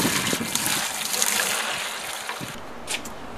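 Water pours and splashes steadily into a bucket for cleaning aluminum parts from a 1973 Honda CB750, a continuous broadband rush that shifts slightly near the end, no speech.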